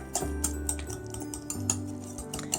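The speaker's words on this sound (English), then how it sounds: "just mashing it really quickly with the pastry blender" Quick, light metallic clicks and soft scraping repeat irregularly as a pastry blender mashes boiled egg yolks in a bowl for deviled eggs, fairly quiet and close.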